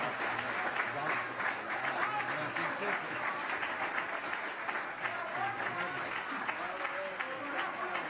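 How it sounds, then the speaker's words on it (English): Sustained audience applause at a Lifetime Achievement Award ceremony, dense steady clapping filling the hall at an even loudness throughout, with voices murmuring faintly in the crowd. "Let's give a round of applause."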